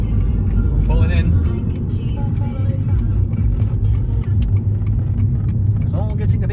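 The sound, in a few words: car pulling in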